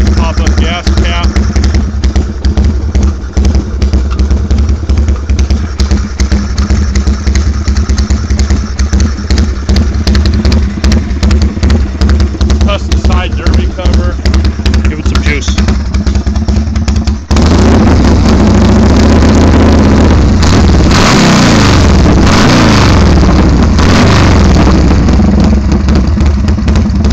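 A custom Harley-Davidson motorcycle engine runs steadily and loudly at close range, with a shift in tone and rumble partway through.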